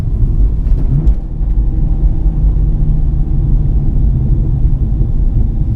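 Manual car engine working through a downshift from third to second gear, a steady, heavy low rumble heard from inside the vehicle with no voices.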